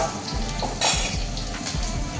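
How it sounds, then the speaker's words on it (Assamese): Onions fry in hot oil in a pan for an Assamese-style chicken recipe, giving a close, steady sizzle with soft stirring scrapes and one brief louder hiss partway through. "পিঁয়াজৰ কেঁচা গোন্ধটো নোযোৱালৈকে পিঁয়াজখিনি ফ্ৰাই কৰি"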